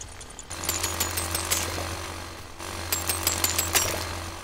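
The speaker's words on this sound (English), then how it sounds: "Look at how much faster it is to use a jackhammer than it was to use a pickaxe" Jackhammer breaking rock in the farming game Dinkum, a steady rapid mechanical hammering with a constant low drone and bursts of sharper impacts, loud and close with no talking.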